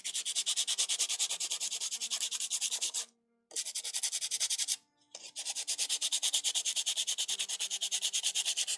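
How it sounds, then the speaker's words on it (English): Sandpaper scuffing a miniature's base, fast rhythmic back-and-forth rasping strokes, close and steady, with two brief pauses. "For that, we're gonna grab some sandpaper."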